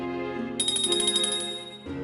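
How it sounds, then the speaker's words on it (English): A dinner bell in the Agatha Christie game And Then There Were None rings in a quick run of bright, shimmering strokes for about a second, close and clear over a low sustained background tone. "That sounds like the dinner bell."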